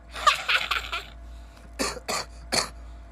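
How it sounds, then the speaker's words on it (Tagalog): A burst of several quick coughs, then three separate harsh coughs spaced apart, close and fairly loud. "Inuubo na ako."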